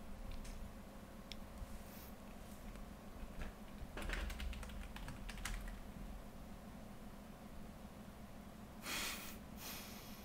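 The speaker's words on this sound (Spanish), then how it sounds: "la compré un teclado mecánico" Typing on a mechanical keyboard, a steady run of small clicking keystrokes with a few louder bursts, heard close under a constant background hum.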